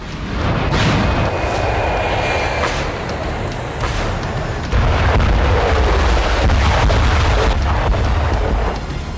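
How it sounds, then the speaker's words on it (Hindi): A massive explosion from a Russian strike in Robotyne, Ukraine, with heavy booming blasts and rumbling debris, loud and close, continuing in repeated bursts. "भीषण धमाके का ये वीडियो रोबोताइन का है।"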